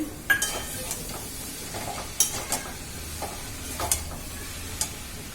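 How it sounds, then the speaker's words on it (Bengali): Onion, tomato, garlic, cumin and coriander sizzle in a frying pan while a utensil stirs and clinks against the metal in scattered strokes, close and moderately loud with no talking. "এই যে পেঁয়াজ টমেটো রসুন সব দিয়ে দিচ্ছি"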